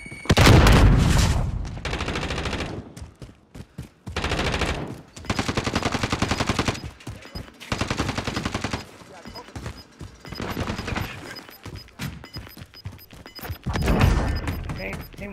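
Heavy automatic gunfire in Call of Duty: Modern Warfare, loud sustained bursts and booms that stop and start in several volleys, with a voice heard between the shots.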